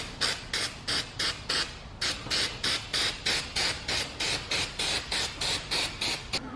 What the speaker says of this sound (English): we're gonna go ahead and repaint the brackets and the new bracket I made with weld-through primer